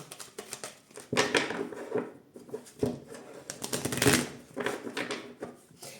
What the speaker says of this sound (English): as I'm shuffling the cards and connecting with future energies